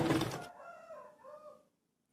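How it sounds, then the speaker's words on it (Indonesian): A chicken clucks and squawks noisily nearby, a short burst followed by drawn-out tonal calls that fade into near silence. "Gue mau motong ayam yang berisik dari tadi, beneran."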